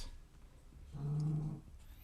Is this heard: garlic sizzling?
no